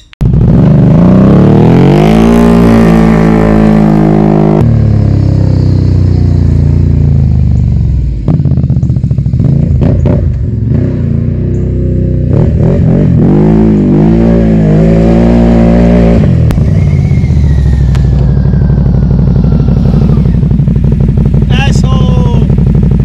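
A loud CFMOTO CForce Overland 1000 off-road vehicle engine with a new exhaust revs up and down repeatedly, roaring and sputtering close by for the whole stretch.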